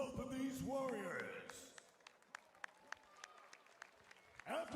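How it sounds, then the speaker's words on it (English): Crowd at an MMA event applauding the fighters after a bout, with an announcer's voice first and then scattered, fairly faint claps and cheers. "let's give a round of applause for both of these warriors."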